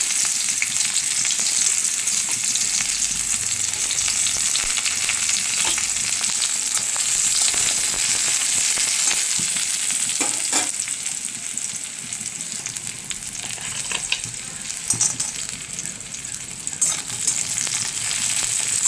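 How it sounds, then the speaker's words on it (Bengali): Crushed garlic fries in hot oil in a wok, a loud, continuous crackling sizzle that holds for nearly twenty seconds, with occasional sharper pops and stirring clatter. "কড়াইতে তেল দিয়ে দিয়েছি, এখন আমি থেঁতো করে রাখা রসুনগুলো দিয়ে দিচ্ছি।"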